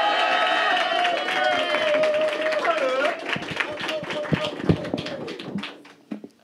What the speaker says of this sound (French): Ah oui, un petit applaudissement